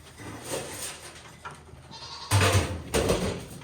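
Goats bleat a few times nearby, short nasal calls over a low murmur of background noise.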